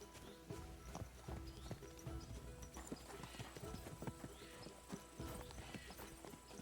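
Horse hooves clip-clop steadily on the ground in the video game Kingdom Come Deliverance 2, an even walking rhythm of clear, close hoofbeats, with a faint ambient bed and a soft whinny-like hint.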